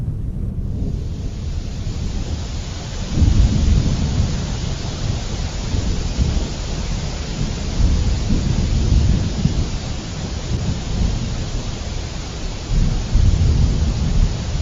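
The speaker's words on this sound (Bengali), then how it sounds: "বাইরে প্রচুর বৃষ্টি হচ্ছে" Heavy rain with strong wind and rumbling thunder outside a house, a dense, steady roar of downpour with deep swells of thunder rolling through, no voices.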